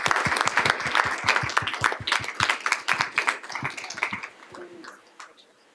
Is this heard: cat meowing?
no